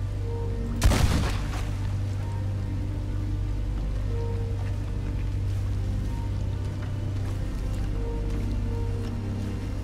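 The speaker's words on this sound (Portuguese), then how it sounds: "Olha quanto tiro eu tive que dar nele pra ele cair." A single loud gunshot cracks early in a video game shootout with a giant legendary alligator. It is followed by a steady wash of rain-like ambient game sound.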